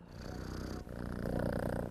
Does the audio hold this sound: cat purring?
yes